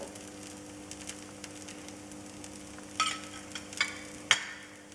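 Ghee drizzled along the edges and center of a dosa crisping on a hot griddle gives a faint, steady sizzle, broken by a few sharper crackles and pops near the end.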